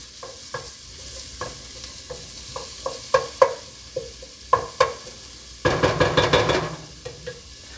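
Chopped onion fries in a pan while being stirred, repeated scraping taps of a utensil over a steady sizzle, ending in a quick rapid burst of stirring, close and without talk.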